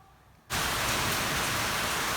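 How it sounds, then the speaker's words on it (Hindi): Heavy rain starts abruptly, shifting from a quiet room to a loud, dense, steady hiss of downpour that holds evenly for the rest of the moment, with no voices. "ये आपको जो साउंड सुनाई दे रहा है ये रेन का है।"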